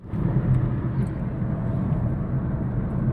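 Renault Kiger Turbo with manual gearbox cruising steadily at about 60 km/h, a constant low engine and road rumble heard from inside the cabin, with no talk.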